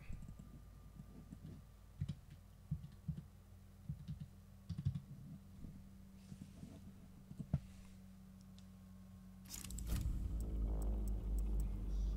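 Typing on a computer keyboard: scattered, close clicks and taps in irregular bursts over a steady low hum, ending in a louder, broadband rumble.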